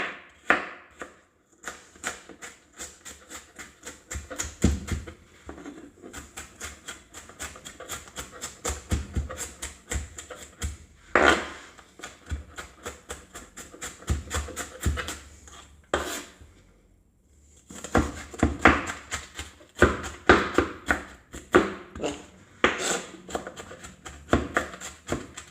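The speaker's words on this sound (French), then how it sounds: "je vais y aller au couteau. Donc, hop, on va hacher l'oignon." A knife chops an onion on a cutting board in a steady run of quick, close taps, with a short pause midway before the chopping resumes just as briskly.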